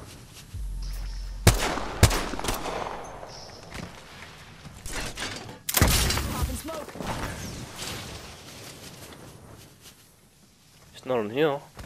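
Gunfire rings out in Apex Legends, a few sharp, separated shots with scattered footsteps and thuds around them, heard under frequent excited talk.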